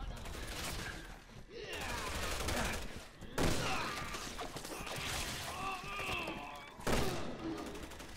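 Shotgun blasts in the Resident Evil 6 action game during a fight with a transforming enemy, several loud bursts at uneven intervals mixed with heavy impacts and a player talking over them.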